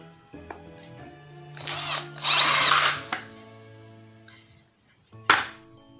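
A GAOCHENG GC-CL12V 12V cordless drill drives a 1 inch screw in short bursts, a close, whining motor with a louder burst in the middle, separated by clicks and a sharp knock near the end.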